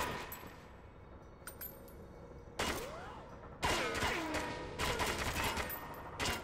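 Gunfire in the shooter game 007 Agent Under Fire: sharp bursts of shots break out after a quiet stretch, first a single volley and then denser, louder rapid fire with ringing, echoing tails.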